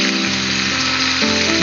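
Tomatoes are added to browned onions frying in a pan for loitta shutki (dried Bombay duck) chutney, and a loud, close, continuous sizzle fills the moment.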